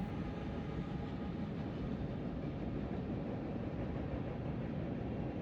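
A Norfolk Southern freight train rolls over the Cumberland River on the mainline through Kentucky, captured on a phone as a steady, close, low rumble that holds evenly throughout without a break.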